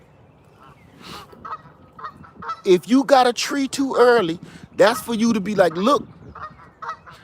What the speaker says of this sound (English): Goose gangsters.